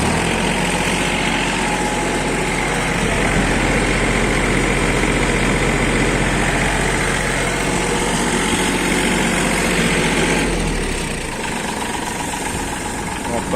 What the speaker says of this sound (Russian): Вот такой мини-трактор Исеки Сиал 23 в городе Иркутске.